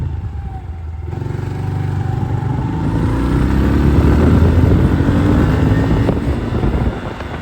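A motorcycle engine warming up, idling loud and close before the revs swell into a sustained rumbling drone, then easing slightly at the end.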